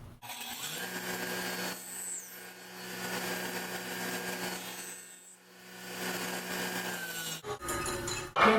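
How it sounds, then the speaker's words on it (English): Dado blade on a saw with a sacrificial fence cutting a half-inch tenon in wood, a steady whining cut that rises and eases in several passes over a continuous motor hum. "with the dado blade partially buried under a sacrificial fence and exactly half of an inch exposed, we can cut a tenon on each end"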